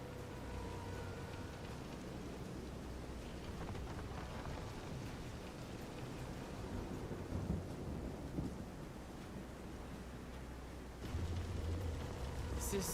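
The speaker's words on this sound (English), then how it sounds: "This is some storm." A thunderstorm at sea in the video game Visions of Mana, with a steady wash of rain and wind and low rolling thunder swelling near the end, fairly faint and continuous throughout.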